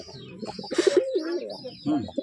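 Pigeons in a loft, including red-eyed birds and young squabs, coo in soft throaty bursts, with several low calls and faint chirps close by amid some background voice.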